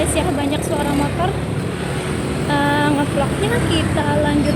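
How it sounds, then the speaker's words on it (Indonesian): Constant rumble of busy road traffic with motorbike engines revving and passing nearby, while a person on foot talks over the din. "ini jalannya rame banget ya guys ya, banyak suara motor"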